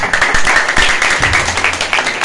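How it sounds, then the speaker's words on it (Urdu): A congregation claps during a Sunday church sermon, with brief bursts of close, crisp hand claps mixed with some voice. "خدا کے لیے زوردار تالیاں ہیں۔"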